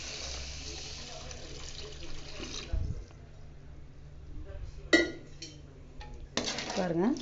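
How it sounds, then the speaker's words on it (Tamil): Water poured into a pan of sautéed onion and tomato for noodles, with clattering pan and utensil knocks and splashing in the near foreground, faint talk in the background. "இப்போ தண்ணி ஊற்றிக்கலாங்க. நூடுல்ஸுக்கு தேவையான அளவு தண்ணி ஊற்றிக்கலாம்."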